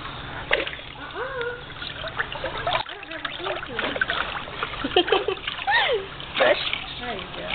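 Water splashes in a swimming pool, with repeated bursts of splashing mixed with children's and adults' voices talking and calling throughout.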